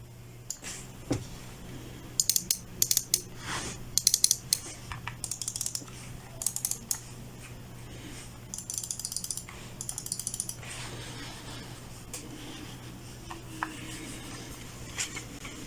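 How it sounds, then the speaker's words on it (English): Quiet clicking and scraping in scattered bursts, like mice gliding and clicking on a pad, over a steady low hum; four computer mice including a Logitech G604 gaming mouse. "I'll play a clip of the noises that these particular mice make here."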